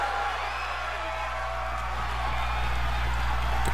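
Dense, steady roar of a wrestling arena crowd in WWE 2K22, cheering continuously at a moderate level throughout, with a few whoops rising out of the wash.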